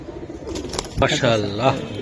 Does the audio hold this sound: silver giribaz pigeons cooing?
yes